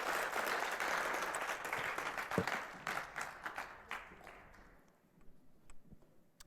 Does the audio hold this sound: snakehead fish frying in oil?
no